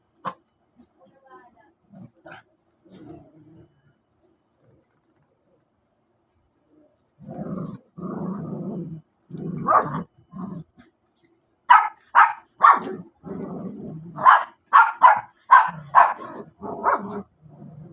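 Several dogs bark, yip and growl in short, lively bursts while playing. The noise grows busier toward the end, with a voice faintly heard early on.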